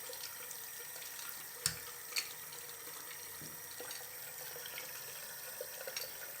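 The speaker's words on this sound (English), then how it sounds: "And I'll do some water right in the front right here. Hit it with my scrub brush." Tap water runs into a sink while paint is rinsed and scrubbed with a brush from an Earlex 6700 paint sprayer: a faint, steady trickle with a couple of brief knocks and scrapes.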